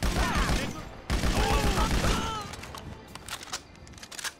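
Rapid gunfire from a gun in GTA 5 rattles in dense loud bursts through the first two seconds, then thins into scattered shots and clatter as a voice talks underneath.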